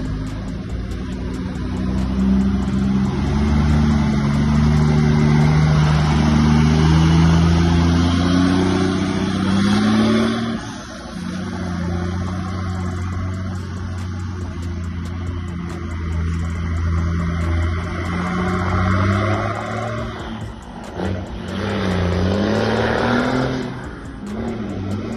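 Mercedes-Benz Constellation truck engine roaring loudly and steadily up close, its pitch holding then dipping and rising again as it revs, with no talk over it.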